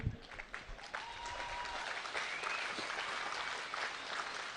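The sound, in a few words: audience clapping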